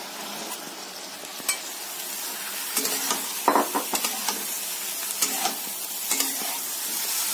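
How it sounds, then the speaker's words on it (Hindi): Cooked rice is stirred into a pan of melted sugar and turmeric for sweet rice, giving a soft steady sizzle with scraping stir strokes and light clinks scattered throughout. "अब इसमें मैं ये चावल डाल दूंगी"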